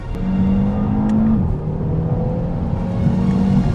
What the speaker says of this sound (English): You're probably getting some of the tone, but you're not getting all the exhaust pops if you're outside the car.